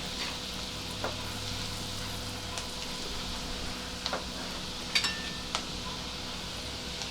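One green chili fries in oil with burnt garlic for mushroom rice, giving a steady, fairly quiet sizzle with a few sharp clicks and pops scattered throughout.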